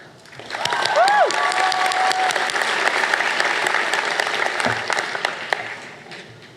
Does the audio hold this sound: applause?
yes